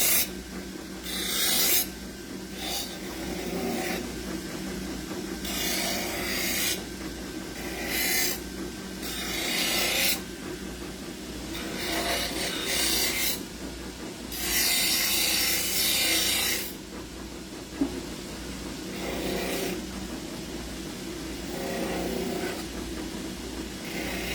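A compressed Scotch-Brite abrasive wheel grinds metal while a cuff is being made, giving a loud, steady rasping whir that surges in repeated bursts as the workpiece is pressed against the wheel.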